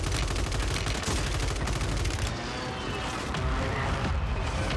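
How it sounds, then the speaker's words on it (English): Dense, loud barrages of mortar and gun fire in Warzone 3, a continuous roar of rapid impacts and shots with a brief dip midway before the onslaught resumes. "Like, these fucking mortar. I'm coming. Oh, that's our mortar."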